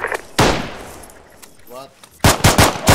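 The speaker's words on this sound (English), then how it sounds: "Pick him off with a machine gun." Machine gun fire in a video game: sharp, loud bursts of rapid gunfire at the start and again near the end, with a quieter gap between them and a brief spoken word in the middle.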